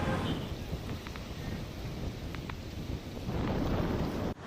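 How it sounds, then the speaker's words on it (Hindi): Heavy rain pours during a thunderstorm with strong winds in Delhi, a dense steady roar with low rumbling and wind buffeting the microphone, ending abruptly. "तेज हवाओं और आंधी के साथ जोरदार बारिश हुई"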